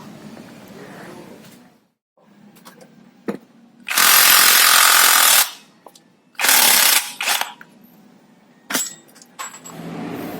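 A power impact tool loosens the torque drive on a Yamaha Aerox scooter, firing in two loud rattling bursts, one long and one shorter, between quieter clicks and clanks of nearby tools.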